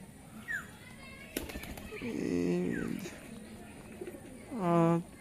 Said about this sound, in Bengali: খুব সুন্দর ছোট মাথার কবুতর